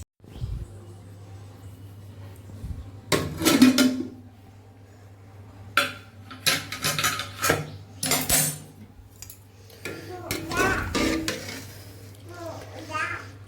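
Metal pot clanks and lid clatters as washed rice goes on the stove, likely a pressure cooker in a home kitchen, in several bursts over a steady low hum, with some talk in between.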